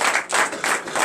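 A congregation applauds during a Christmas Day morning prayer service, with dense, steady clapping that swells in loud rhythmic waves throughout.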